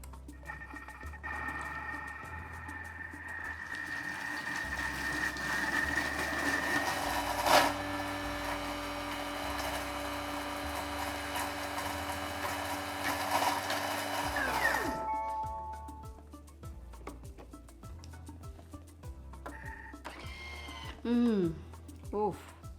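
A blender at speed 8 whirs steadily for about fifteen seconds blending mushroom paste, a loud close motor whine with a thump at the start, then spins down as a voice talks afterward.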